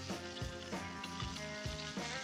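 Blueberry-coated crappie fries in a pan over an outdoor campfire in the wilderness, a steady close sizzle with regular soft pulses of crackle, no voices.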